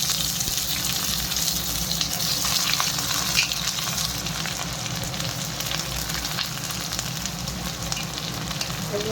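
Chopped onions and green chillies sizzle steadily in hot oil in a pan, along with garlic already browning there, a loud, continuous close-up frying hiss with occasional stirring and no talk.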